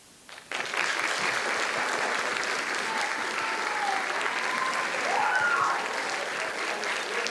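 A poetry slam audience breaking into applause after a performance: a dense, sustained burst of clapping that begins abruptly and holds steady, loud and close, with no talk over it.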